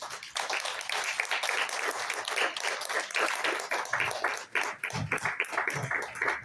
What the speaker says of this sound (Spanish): ¿Cuántos le pueden dar un aplauso al Señor por estas situaciones?